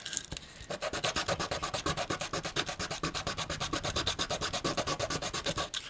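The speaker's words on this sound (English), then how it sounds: "and we sand him flat." Sandpaper rubs a small figure flat on a model build, a fast, even back-and-forth scratching with about three strokes per second, close up and steady without any talk.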